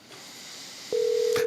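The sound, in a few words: telephone ringing during call-in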